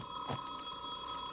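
A telephone bell ringing once in a quiet room during a Korean drama scene, a short mid-loud ring with a steady electronic hum underneath.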